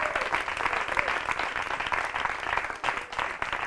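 An audience applauds a performance by a choir at a Christian variety show, steady dense clapping sustained throughout without a break.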